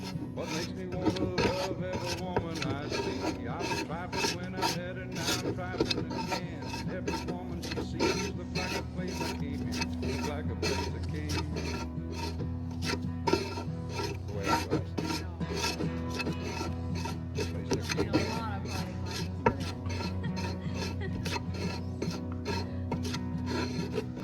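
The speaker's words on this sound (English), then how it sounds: "Get my hardener. Squeeze the dot with it. And then what I'll do is I'll mix it." Body filler mixed with hardener on a board for a truck cab corner repair: steady, rapid scraping and rubbing strokes of a spreader, repeated continuously at close range with no talking.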